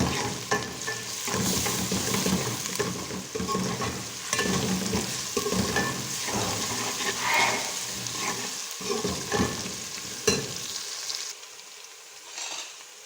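Steady, loud sizzling of garlic ginger paste frying in hot oil for mutton haleem, with repeated stirring scrapes and clatter, fading toward the end.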